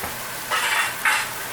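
Mushroom soaking liquid poured into a hot pan hisses in two short sizzling bursts, the second sharper, close and fairly loud with no talking.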